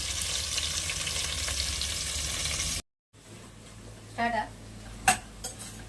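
Long onion slices frying in oil for egg biryani give a loud, steady close sizzle. It drops off abruptly, then comes back quieter with a few clinks of a utensil against the pan.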